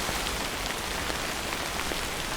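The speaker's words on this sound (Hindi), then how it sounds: "बारिश होने लगी यहाँ पे." Steady, dense rain in the video game Death Stranding patters evenly on a surface, a constant hiss of drops without pauses or voices.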